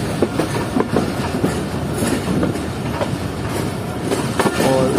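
The Shah Latif Express rolls along the rails between Mirpur Khas and Karachi, with loud, close rhythmic clickety-clack of the wheels over a steady rumble and occasional faint squeal.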